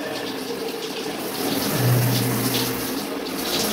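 Someone urinates in a shower, making a steady, close splashing stream of liquid that swells slightly in the middle and carries on for several seconds without talk.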